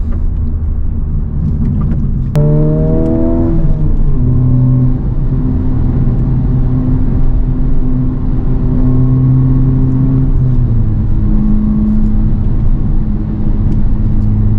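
A 2023 Honda Civic Type R driven on a road, its engine a loud, steady close drone with rising and falling pitch as it accelerates and shifts, over constant road rumble.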